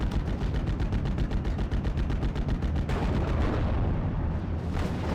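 Rapid bursts of .50 cal machine gun fire in the WWII strategy game Steel Division: Normandy 44, a fast regular stream of shots for about three seconds followed by booming, rumbling battle noise.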